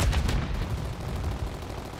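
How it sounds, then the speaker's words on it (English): Rapid gunfire in Call of Duty striking a riot shield, a burst of sharp close impacts at the start fading into a dense, rumbling barrage of game shooting that continues throughout. "he's just shooting my riot shield"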